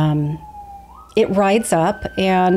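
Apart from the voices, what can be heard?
emergency vehicle siren outside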